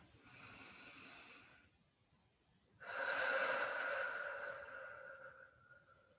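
Slow, deep exhales during a moderate yoga session: a soft breath trails off, a pause, then a longer, fuller airy exhale that fades gradually, close and quiet with no talking.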